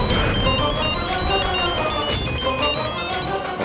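A mobile phone ringtone plays loud and close, a continuous bright melodic tone pattern that repeats steadily throughout, with no one speaking over it.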